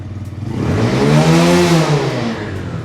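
A cheap carbureted 125cc Walmart super sport motorcycle revs up in neutral, its engine note climbing quickly to a loud, buzzing peak before easing back slightly, close and alone.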